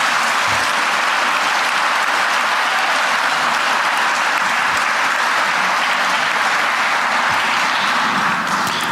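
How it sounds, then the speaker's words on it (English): A gala audience breaks into sustained, loud applause for Mr. Malloy, dense clapping from a large crowd filling the room without pause, with faint murmurs underneath. "If you could please stand for a round of applause"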